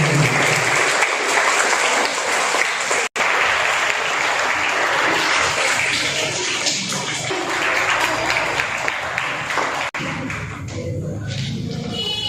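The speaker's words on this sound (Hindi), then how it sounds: "जोरदार तालियों से।" Loud, sustained applause from a large crowd at an award ceremony for Urdu medium school toppers, clapping densely and continuously for several seconds before gradually thinning out.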